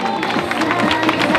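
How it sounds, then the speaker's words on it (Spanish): Crowd applause for a runner finishing a countryside race in Valdemierque, a brisk burst of clapping mixed with crowd noise and chatter, close and continuous. "¡Fuertísimo aplauso! ¡Un fuerte aplauso!"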